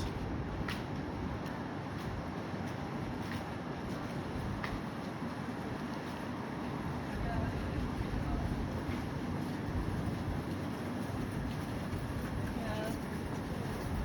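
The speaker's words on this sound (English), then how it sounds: "This train's about to leave in a minute." A Sunbury line Metro train sits at West Footscray station before departing, a low rumbling engine and rolling drone that builds slightly, with faint station announcements and voices over it.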